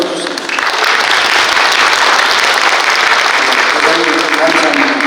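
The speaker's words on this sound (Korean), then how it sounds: "우리 시장님 열심히 하시라고 한번 큰 박수 한번 보내주세요." At a New Year community meeting with residents in Yeoheung-dong, the audience gives the mayor a big round of applause. Loud, sustained clapping swells quickly and holds steady throughout.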